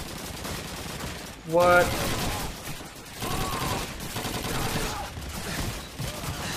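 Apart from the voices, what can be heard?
gunfire in video game Call of Duty 2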